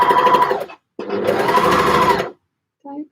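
A sewing machine stitches in two loud bursts of steady motor whir, about 0.8 and 1.3 seconds long, separated by a short pause, while knit projects are prepared; a brief voice is heard at the end.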